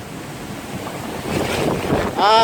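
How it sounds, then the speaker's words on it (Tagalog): Strong wind gusting outdoors, a steady loud roar buffeting the microphone and building toward the end, with no talk. "Lakas talagang hangin dito."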